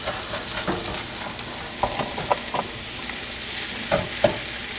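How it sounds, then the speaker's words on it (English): Cheese being stirred into a potato and egg hash in a hot pan, steady sizzling with a scatter of scraping stir strokes close up, no voices. "Take it and stir it around"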